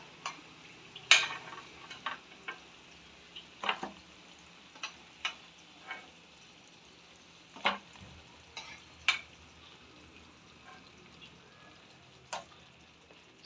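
Vada batter is dropped into hot oil and fried, with a quiet background sizzle broken by scattered sharp clinks and taps of a ladle against the pan at an uneven pace; no talking.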